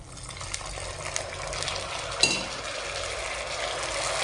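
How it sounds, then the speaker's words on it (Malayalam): A little water poured into jaggery melting in ghee in a cooking pan while making kinnathappam, a soft steady hiss and trickle with no talking. "ഒരു ശകലം വെള്ളം ഒഴിക്കുക,"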